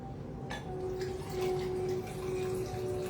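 A Rudolph Sour cocktail poured into a glass, a steady close trickle of liquid with a rising fill tone, heard alone without talk.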